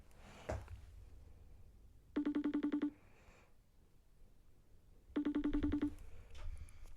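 A telephone rings in two separate bursts of rapid trilling, each lasting under a second, fairly close, with a quiet room between the rings.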